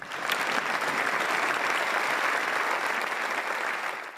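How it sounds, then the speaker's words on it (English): French lawmakers from both houses of Parliament, gathered in the Senate chamber, applaud King Charles, a dense and sustained burst of clapping that holds steady throughout and thins slightly at the end. "gathered at the Senate, applauding him at length"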